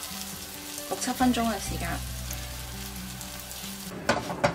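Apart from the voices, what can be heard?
pan-frying basa fish fillet until golden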